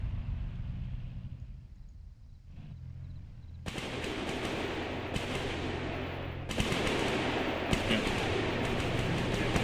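Dense bursts of rapid automatic gunfire in a video game rattle loudly and nearly continuously, with brief pauses between volleys, while a player speaks briefly over the shooting.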